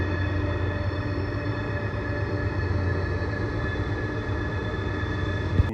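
A freight train rolls steadily around Horseshoe Curve in Pennsylvania, a continuous loud rumble of wheels and wagons with a low drone, heard alone without voices.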